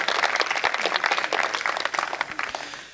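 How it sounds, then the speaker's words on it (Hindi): An audience at a Hindi satirical poetry gathering breaks into loud applause for the host, a dense, continuous patter of many hands that fades slightly toward the end. "मैं चाहता हूं कि आप अपने संचालक के लिए, सिद्ध संचालक के लिए भी एक बार जोरदार तालियां बजाएं।"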